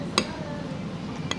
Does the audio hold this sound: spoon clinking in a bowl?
yes